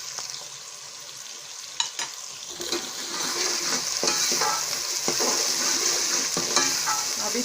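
Cumin seeds and small whole red chillies fry in hot oil with a steady sizzle, broken by a few sharp clicks of a spoon against the pan early on, no one speaking.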